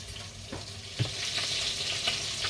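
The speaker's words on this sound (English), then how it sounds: "so that's the chicken frying." Chicken pieces frying in a pan for oven-baked jerk chicken, a steady close sizzle with a few sharper pops and stirring clanks spread through the short stretch.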